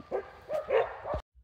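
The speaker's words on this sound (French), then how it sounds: "Pourquoi Zoé, elle aboie?" A dog on a walk barks in a quick series of three or four close, sharp barks, then falls silent.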